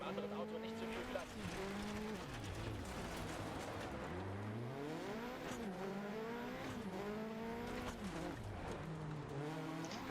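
A Peugeot rallycross car in DiRT Rally 2.0 revs hard and continuously, its engine note rising and falling through gear changes, with brief tire squeal, loud and upfront throughout.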